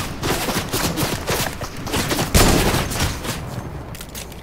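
Gunfire in the video game Fortnite, a rapid series of sharp shots and bursts with one louder crack midway, fairly close and dense over a few seconds.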